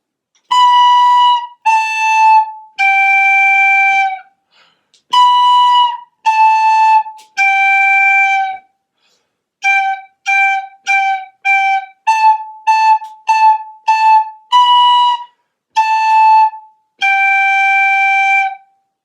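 Beginner class playing tin whistle in unison at Band on the Wall, clear pure sustained notes in a simple nursery-tune phrase of long and quick short notes separated by brief pauses, with no talking.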